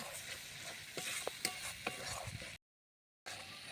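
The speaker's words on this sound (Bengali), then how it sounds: "আমি ভালোভাবে মশলাটা কষে নেব" Spice paste made with Kashmiri chili powder frying in a pan while a spoon stirs and scrapes it, giving a continuous sizzle broken by distinct clinks and scrapes, then a short silent gap before the sizzle returns.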